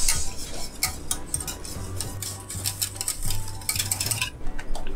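Utensil scraping and clinking in a pot while rice flour chiffon cake mixture is stirred with butter added off the heat, a steady close rhythm of soft taps and scrapes with no talking.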